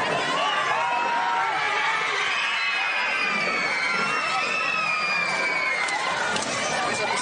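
A circus audience erupts in continuous loud shouting, cheering and screaming, with high children's shrieks rising above a dense roar of crowd noise throughout, as lions attack their trainer in the ring.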